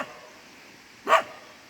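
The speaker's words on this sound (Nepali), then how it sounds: "कुकुर यहाँ माथिसम्म आइपुगेको छ।" A dog at a hillside kiwi farm gives a single short bark at moderate distance, standing out briefly against quiet outdoor background.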